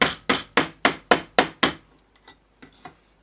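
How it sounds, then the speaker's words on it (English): Seven sharp, evenly spaced hammer strikes flatten metal parts on a Roberts R 800 build, loud and close, followed by a few fainter knocks and taps. "just tap these here so they're flat"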